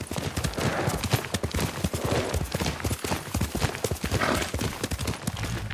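Rapid, steady clip-clop of horse hooves trotting at a continuous rhythm in Ghost of Tsushima, fairly close, with occasional faint snorts and no talking.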